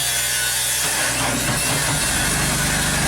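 A loud, continuous JLG scissor lift engine drone with rattling, grinding texture and a shift in tone about a second in, running steadily throughout.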